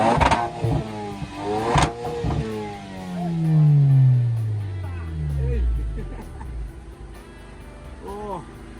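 A wrecked car in a junkyard cranks over and its engine catches, then revs up and slowly winds back down in a long, loud sweep, with excited voices talking over and around it.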